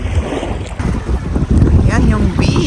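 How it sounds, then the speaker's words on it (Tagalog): Strong wind buffets the microphone on an Italian beach at sunset, a continuous rough roar with gusts, low surf in the background and a few faint voices. "Medyo mahangin."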